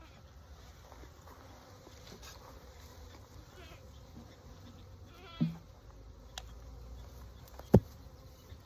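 A soft, steady buzz of bees from a package being installed in a hive hums through outdoor background noise, with a couple of brief knocks and a sharp tap near the end.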